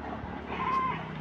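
A goat bleats once in a short, wavering call amid outdoor background noise during a family outing.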